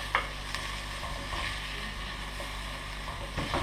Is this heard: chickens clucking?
no